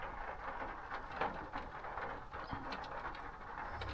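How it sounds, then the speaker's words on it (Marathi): Light rain falling at night during car camping at Bhandardara near Igatpuri, a steady soft patter of drops on surfaces with faint scattered taps, moderately quiet and continuous with no talking. "पाऊस सुरू झालेला आहे."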